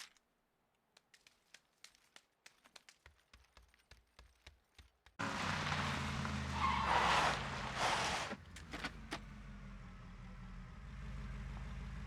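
A car in PUBG arrives after scattered light clicks, its engine suddenly loud and close with a squealing, skidding surge, then settling into a lower steady rumble.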